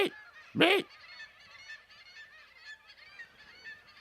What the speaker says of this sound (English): In a flock, they communicate with harsh squawks and body movements.